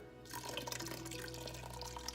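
Beer pouring from a can into a Ninja Foodi pressure cooker, a close, steady splashing gush that starts abruptly and continues with bubbly gurgles.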